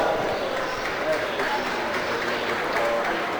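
Applause for exhibitors at the 2023 Gage County Fair swine show, a dense steady clapping from a crowd in a show arena, continuous and moderately loud.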